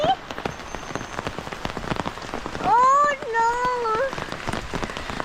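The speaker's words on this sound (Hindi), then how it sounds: "वाह वर्षा होती" Rain falling steadily as a broad, constant hiss through the whole stretch, with a voice exclaiming over it partway through.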